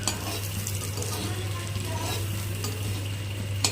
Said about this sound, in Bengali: বাটার দিলে এটা ভালো মতো ভাজা হবে।